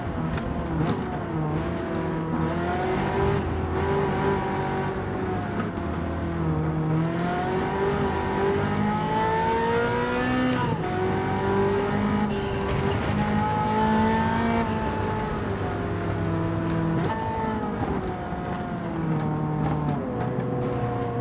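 Ferrari F40 race car lapping a circuit, its engine droning and rising and falling steadily through gear changes for the whole stretch, close and loud with no talk.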